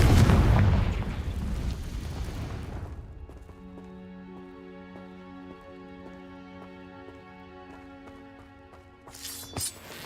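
A Confringo blasting spell bursts in Hogwarts Legacy with a loud boom and noisy crackle that dies away within a few seconds, leaving a quiet tonal musical drone and a brief sharp sound near the end.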